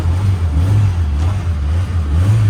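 An old Maruti Gypsy engine, left rough after being flooded, revs and then settles as the accelerator is released, a steady low droning rumble with a slight wavering pulse, loud and close, without speech.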